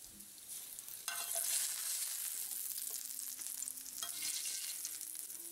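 Cajun bacon crackles and pops in hot grease, a dense steady frying hiss that swells suddenly partway through and then continues evenly.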